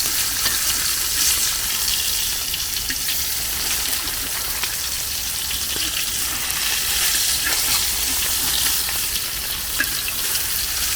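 Pearl spot fish (karimeen) frying in hot oil in a pan while being turned, a loud continuous crackling sizzle with scattered pops and stirring clatter, close up and without talk.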